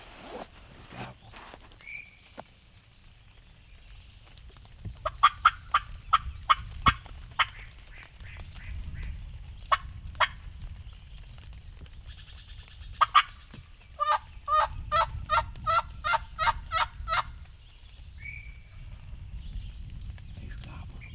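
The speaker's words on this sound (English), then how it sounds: "He's gobbling a bunch. Alright, the turkey's really close." A wild turkey gobbles repeatedly outdoors during a spring hunt, with fast rattling bursts and several quick volleys, fairly close against a soft windy background, plus a few brief faint calls.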